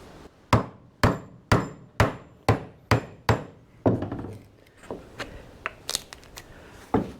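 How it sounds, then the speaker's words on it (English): A chisel struck by a hammer, cutting out wood for a homemade sprinkler base: about ten sharp, evenly spaced knocks, close and loud, then softer, irregular taps and scraping as the waste wood loosens. "I should be able to take that out pretty easily with the chisel."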